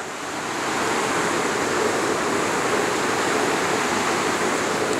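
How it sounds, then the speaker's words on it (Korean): A mountain stream's rushing water on Jirisan, South Korea, swells in at the start, then holds as a steady, full roar of flowing water with no other sounds. "물소리 물소리 물소리가 아주 기쁩니다"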